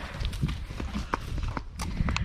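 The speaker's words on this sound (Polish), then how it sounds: "Dobry koń." Horse hooves clip-clop on the ground in a quick, uneven walking rhythm, close and fairly loud, with light rustling and faint background noise around the steps.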